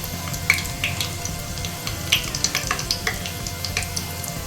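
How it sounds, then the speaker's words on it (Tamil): Whole spices including cardamom fry in oil for a chicken biryani, a steady bubbling sizzle with small popping crackles scattered throughout, close and moderately loud with no voices. "பொரிஞ்சிட்ருக்கு, இப்படியே போட்டலாம்."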